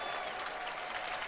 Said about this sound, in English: And the crowd is loving her.